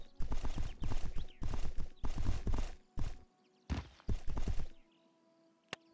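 Horse hooves clip-clop in the video game My Horse Bonded Spirits, a fast run of loud, crisp bursts that stop and start again, then fade to quiet ambience with one short click.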